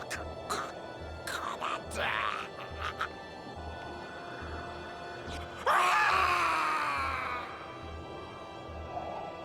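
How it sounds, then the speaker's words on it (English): A character in Final Fantasy Tactics: The Ivalice Chronicles lets out a loud, drawn-out scream that falls in pitch partway through, over steady pulsing game music after some brief earlier vocal sounds. "Definitely have to hear him scream every time as well."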